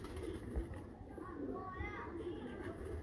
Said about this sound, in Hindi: मेरा भी बड़ा ही पसंदीदा कबूतर है ये